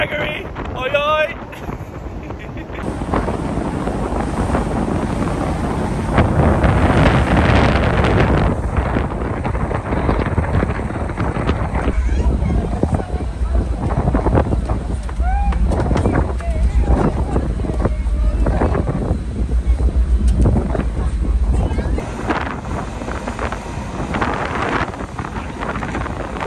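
Aboard the CalMac ferry MV Caledonian Isles sailing between Ardrossan and Brodick, steady wind buffets the microphone over a constant engine and water rumble, with occasional distant voices and brief calls near the start.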